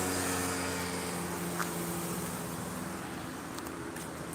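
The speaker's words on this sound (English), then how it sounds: "because there's some traffic, as you can see" Steady, fairly distant road traffic beside a park, a constant broadband hum of passing vehicles with a faint low engine drone and no distinct events.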